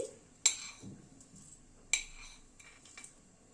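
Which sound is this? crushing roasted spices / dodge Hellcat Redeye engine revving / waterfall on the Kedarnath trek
crushing roasted spices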